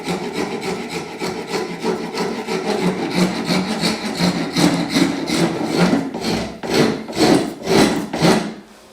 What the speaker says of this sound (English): On the seat back, we're going to round that over, take the sharp corners off, and do that again with the surf form.